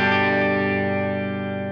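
A Boss RE-202 Space Echo tape echo unit with wow and flutter switched off sustains a dense, buzzy effected tone that decays slowly and evenly over a short span, with no talking.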